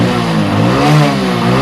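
A motorcycle engine running on pure petrol with no ethanol blend revs steadily nearby, its loud, rough idle swelling slightly in the middle without any talk.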